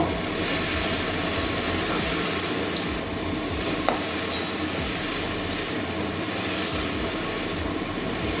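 Amaranth stems (data greens) sautéed in a pan make a dense, steady sizzle with a low rumbling undertone. A few faint stirring scrapes and taps come through, and nobody speaks.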